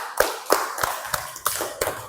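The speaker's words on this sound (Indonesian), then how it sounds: "berikan tepuk tangannya untuk kelompok ini" A classroom of students applauds a student group after its presentation, with about seven separate loud claps spaced roughly a third of a second apart, sounding more like scattered hand taps than sustained applause.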